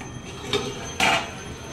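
A lid comes down on a cooking pot of fish curry with a light metallic tap and then a sharper clink a moment later, set against quiet kitchen background.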